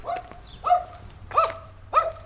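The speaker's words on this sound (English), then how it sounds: "They do have yappy dogs in Moldova. Their dogs do like to yap." A small dog in a Moldovan village yaps in short, sharp, high barks, four quick yips spaced about half a second to a second apart, fairly close and clear over quiet outdoor background.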